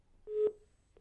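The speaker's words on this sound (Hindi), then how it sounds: "फोन डिस्कनेक्ट हो गया" A telephone line cutting off during a call, leaving a short tone burst with a click, then a brief second beep of the busy signal after a pause.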